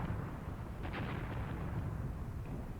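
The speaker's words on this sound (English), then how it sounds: "Artillery barrage is moving on." An artillery barrage in the Graviteam Tactics war game, faint and distant, a constant low rumble of blasts with one brief, sharper crack rising out of it, and no voices.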